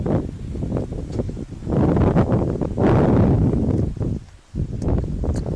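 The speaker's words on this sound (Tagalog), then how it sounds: "Sa sobrang lakas ng hangin," Strong wind blows outdoors in rainy, stormy weather, a loud rushing roar that surges and buffets the microphone with brief lulls, with no voices.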